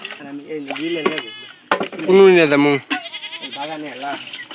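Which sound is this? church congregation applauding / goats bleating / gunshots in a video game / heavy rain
goats bleating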